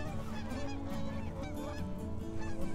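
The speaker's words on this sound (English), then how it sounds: "Hello, geese." Geese honk repeatedly on a gravel bar beside the Yellowstone River in January. The calls come loud and close in overlapping bursts that continue throughout, with no voices.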